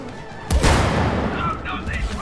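Rocket explosions from the Moon Baboon boss fight in the co-op video game It Takes Two, a loud boom bursting in at about half a second and rumbling on beneath excited voices of players.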